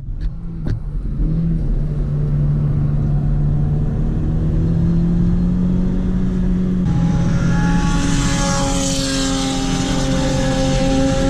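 A Renault Sandero RS on a track day, heard from the passenger seat, drones loudly and close as its engine pitch climbs steadily while accelerating, with no talking.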